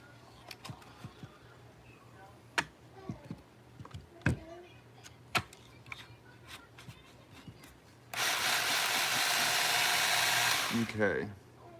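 Hand sanding of a forged spring steel kitchen knife with 220 grit, first scattered scrapes and knocks, then about three seconds of continuous loud, close rasping abrasion before it stops.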